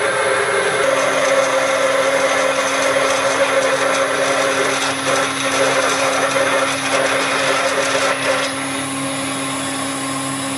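A lathe turning at about 350 RPM drills a hole with a steady, loud mechanical whine and grinding hum that runs continuously, easing slightly near the end.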